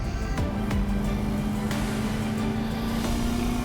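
A deep V8 engine in a Jaguar XK growls steadily up close, its pitch rising slowly and evenly, loud and continuous throughout.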